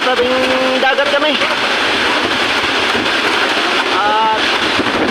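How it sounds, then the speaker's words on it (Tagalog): Strong typhoon wind roaring at the seaside in Northern Samar, a loud continuous rush buffeting the microphone with surf noise beneath, while voices talk excitedly over it. "Grabe ang lakas ng hangin mga kapana. Nasa tabing dagat kami."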